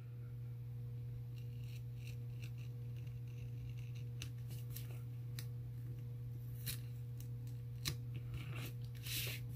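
Scissors cut a paper planner insert in a few scattered, crisp snips, close but quiet over a steady low electrical hum. No one speaks.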